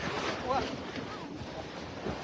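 Strong wind gusting along the coast at Oroquieta City, a rough roaring rush buffeting the microphone near the sea, with faint voices underneath.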